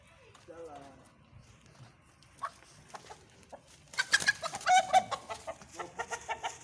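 Agitated chickens on a poultry farm, one tangled in a plastic shopping bag, clucking and squawking in rapid, rising bursts that grow louder and busier toward the end, mixed with people speaking.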